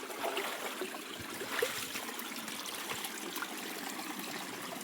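A stream of yellow water flows in a steady, continuous trickling rush with small splashes, faint and even throughout with no voices.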